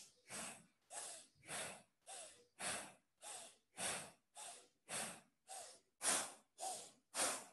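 Bhastrika yoga breathing, twelve forceful, evenly spaced breaths through the nose, each a loud breathy rush about every half second apart, close and alone.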